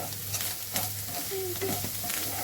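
Egg burji with fresh coriander is stirred in a hot pan, a constant close sizzle with scattered spatula scrapes and light clicks, no one talking.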